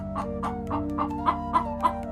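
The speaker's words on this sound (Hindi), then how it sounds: "मुर्गियों की तेज आवाज" Chickens cluck loudly and repeatedly in a steady rhythm, close by, over a constant low hum.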